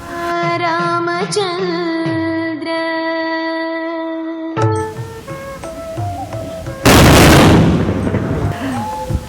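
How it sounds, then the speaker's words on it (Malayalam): Vedi vazhipadu, a firecracker offering at Thriprayar Temple in Kerala. Ringing tonal sounds come first, then one sudden, loud, close blast that booms and fades out. "ഇനി ഞാനൊരു വെടി വഴിപാട്, ഒരു 3 വെടിക്ക് കൊടുക്കാം."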